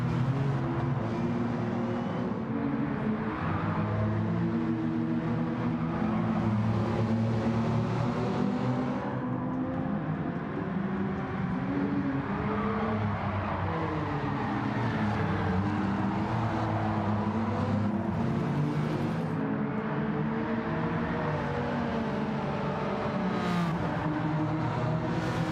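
Race car engine in Gran Turismo 7 held at a steady, loud roar for the whole stretch, pitch wavering up and down as the car slides through a linked drift, with no voices over it.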